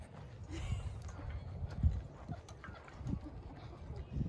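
Horse hooves clip-clop unevenly on an arena surface during a riding lesson, with soft, fairly distant footfalls, low background noise and faint movement.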